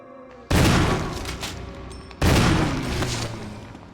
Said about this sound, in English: Get some headshots on these guys.